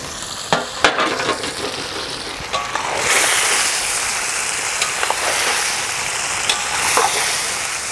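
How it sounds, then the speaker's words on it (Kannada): Fried egg chilli stirred into chilli gravy in a pan: a loud, steady sizzle swells after a few seconds, broken by sharp scraping and clanking taps of the spoon against the pan. "ಎಗ್ಗನ್ನ ನಾನು ಕರ್ಕೊಂಡಿದ್ದೀನಿ. ಈಗ ಗ್ರೇವಿ ಜೊತೆಯಲ್ಲಿ ಹಾಕೋತೀನಿ."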